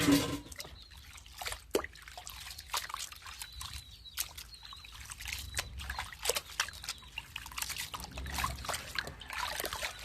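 Pickled mustard greens rinsed by hand in water, with steady close trickling, light splashing and sloshing throughout.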